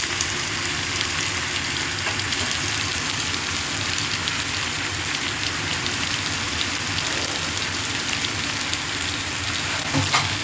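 Onions fry in oil for a chicken biryani, giving a dense, steady, close crackling sizzle that holds evenly for the whole stretch. No voices are heard.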